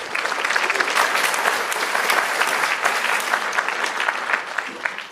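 An audience at a technology demo day event applauds, dense steady clapping from many hands that is loud and continuous for several seconds.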